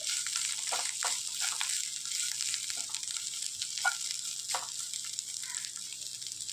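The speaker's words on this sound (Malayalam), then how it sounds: "അങ്ങനെ ഇളക്കി കൊടുത്ത് ഡ്രൈ ആക്കി എടുക്കുക." Green chillies sizzle and crackle in hot frying oil as they are stirred dry, a continuous bright hiss punctuated by scattered scraping stirs.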